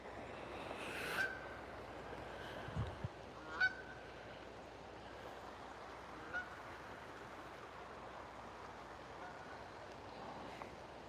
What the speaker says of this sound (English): Look at that Canadian goose.